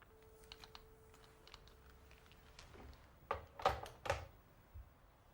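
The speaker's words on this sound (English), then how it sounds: "Julia has an old typewriter." An old typewriter clacks with scattered light key taps, then a few heavier, louder strikes in a quiet room.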